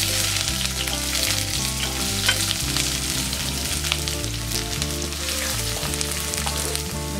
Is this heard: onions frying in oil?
yes